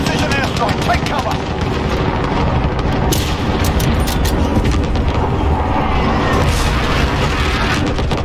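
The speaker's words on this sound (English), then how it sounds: "Enemy precision airstrike. Take cover." In Call of Duty Modern Warfare, gunfire and booming explosions from a precision airstrike pound without letup under a dense, loud wash of battle noise, with occasional sharper bursts.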